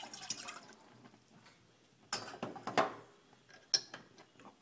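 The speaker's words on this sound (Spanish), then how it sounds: "Para preparar nuestra salsa agridulce, agregamos 100 mililitros de agua." Water goes into a pan while sweet and sour sauce is made in a home kitchen, heard as faint, scattered drips and splashes with a few sharper clinks against a quiet background.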